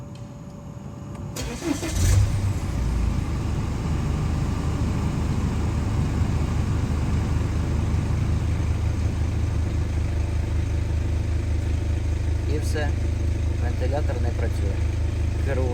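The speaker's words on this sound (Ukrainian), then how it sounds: "Тільки ми заводимо автомобіль." A 2008 BMW 118i cranks and fires up, then settles into a steady close idle that holds throughout, with a voice briefly heard over the running engine.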